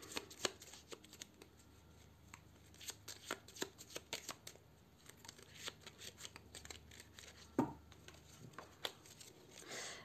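Small tarot cards being shuffled by hand, giving quick rustling riffles and sharp papery clicks in irregular bursts across the whole stretch, fairly quiet and close, with no talking.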